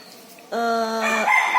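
A Sentul native rooster from a Ciamis village-chicken farm crows once, a clear, loud, drawn-out call that rises at the end, heard alone against a quiet background.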